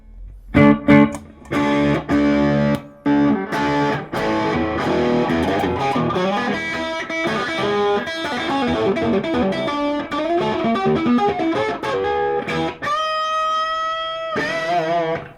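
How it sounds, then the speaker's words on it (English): Electric guitar with humbucker pickups played through a Marshall DSL amp with gain: a few loud, choppy distorted chord stabs open, then sustained crunchy riffing and chords run on, ending in a ringing held chord. "we're going to put some gain on this Marshall DSL I have here"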